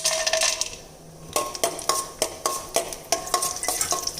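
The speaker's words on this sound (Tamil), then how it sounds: "ஒரு வாணலியில் கொஞ்சம் நெய் விட்டு முந்திரி, தேங்காய் வறுத்துக்கலாங்க" Cashews and coconut fry in ghee in a pan, stirred with a utensil that scrapes and clinks in a quick irregular rhythm over a soft sizzle.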